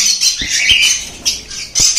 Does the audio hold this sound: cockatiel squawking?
yes